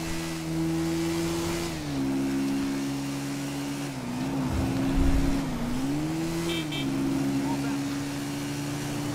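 Honda XRE 300 trail motorcycle engine in GTA V, a steady droning hum holding pitch with small dips and rises as the bike cruises toward top speed, with someone talking over it.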